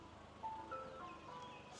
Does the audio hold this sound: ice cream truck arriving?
yes